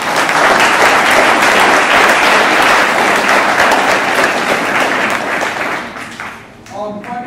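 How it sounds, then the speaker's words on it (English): Loud round of applause from an audience at a kickoff meeting, dense clapping sustained for about six seconds before fading, with a brief voice at the end. "let's give a round of applause"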